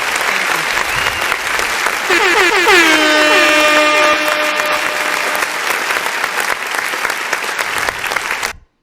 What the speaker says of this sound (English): that was a long applause